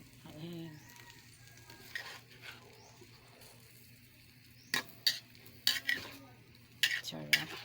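Bitter gourd (ampalaya) with egg being stirred in a frying pan, soft sizzle under scattered utensil scrapes and sharp clinks against the pan, with a voice heard early on.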